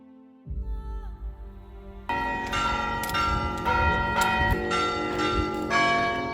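A church carillon in a village in Portugal rings out, several bells chiming together in a rich, sustained peal after a quieter start with a low hum.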